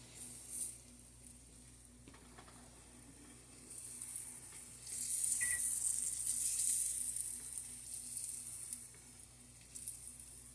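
Oxtail browning in a pot while being stirred gives a faint, steady sizzle and fry with soft wet shuffles from the stirring, growing a little louder midway, with no voices.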